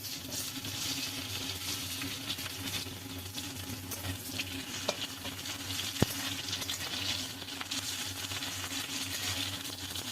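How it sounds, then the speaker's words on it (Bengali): Sliced bitter gourd lightly frying in oil in a pan for sukto, with a soft, continuous sizzle and a few faint stirring clicks, close and quiet with no talking. "প্রথমে আমি উচ্ছেটা হালকা করে ভেজে নেব"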